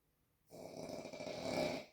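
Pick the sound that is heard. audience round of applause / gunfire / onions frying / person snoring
person snoring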